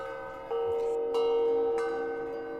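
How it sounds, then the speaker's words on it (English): A bell rings outside a cafe: three clear, resonant strikes about half a second apart, each leaving a sustained tonal hum that lingers and slowly fades. "There is a noise from outside of this restaurant, this cafe. Sounds like a bell ringing."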